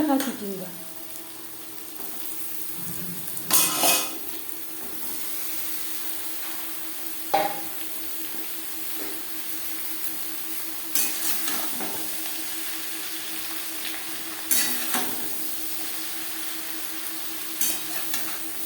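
Onion, hyacinth beans and green chillies fry in a pan, giving a soft continuous sizzle with several sharp clanks and scrapes as they are stirred at close range.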